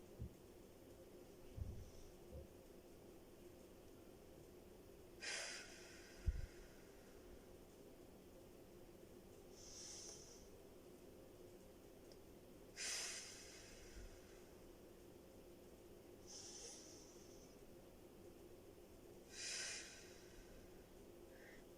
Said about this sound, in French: Inspirez en poussant cette main.